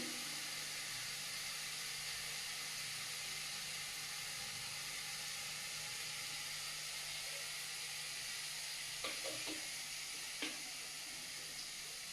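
Oil heats in a wok (kadai) before fish goes in, giving a steady, even hiss that runs throughout, with a few faint knocks near the end.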